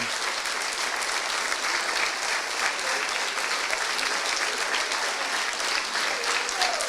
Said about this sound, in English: I want to give you all a round of applause